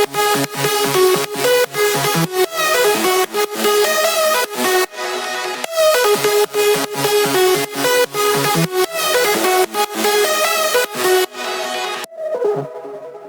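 A hardwave synth lead plays the melody of a drop, with dense, bright stabs in a fast, steady rhythm, loud and up front before it thins out near the end.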